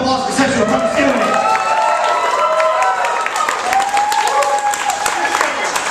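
An audience at a burlesque show claps and cheers, a dense burst of applause with shouts and whoops mixed in, fairly close and loud, with voices over it.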